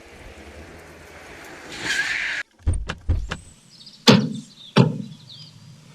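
A car door thuds shut in a few sharp, close slams after a rising hiss of movement, then the vehicle pulls away with fading engine noise; no one speaks.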